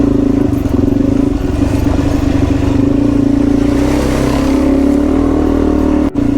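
A Suzuki DRZ400E dual-sport motorcycle on a solo trail ride in the Blue Mountains, Australia, its single-cylinder engine droning loud and close with a steady throbbing hum, rough rattles from the terrain and a brief dropout near the end.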